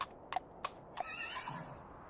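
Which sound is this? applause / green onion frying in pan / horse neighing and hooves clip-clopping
horse neighing and hooves clip-clopping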